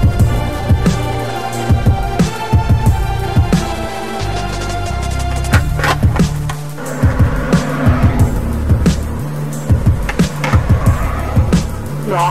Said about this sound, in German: Kann man nicht fahren, kommen immer Autos.